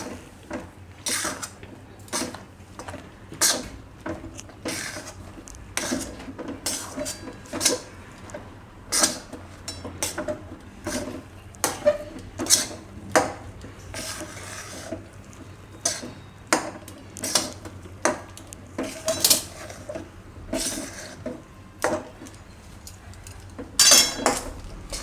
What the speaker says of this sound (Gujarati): તો આ રીતે બધું મિક્સ કરી લેવાનું આમાં ચાસણીમાં.